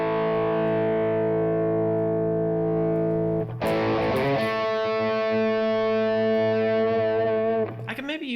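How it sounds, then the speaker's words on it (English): Country-style electric guitar through a Kemper amp with an aggressive Klon-style overdrive, playing a sustained distorted chord that changes to a brighter, busier strummed passage midway, loud and continuous with no talking. "Here we're going to put a little bit more of an aggressive overdrive on here."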